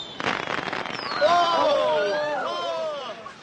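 Fireworks in a radio drama sound effect: a crackling burst is followed by several whistling rockets that rise and fall in overlapping shrieks, with faint crowd murmur beneath.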